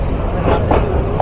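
Dinajpur Commuter train no. 61 rounds a long curve near Parbatipur junction, a brief close rumble of wheels and carriages with no voices.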